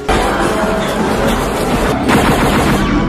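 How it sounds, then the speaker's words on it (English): Sustained automatic gunfire from the action film Double Team plays loud and dense throughout, with rapid bursts blending into a continuous clattering barrage and a brief break partway. "He's firing while on one of the rides?"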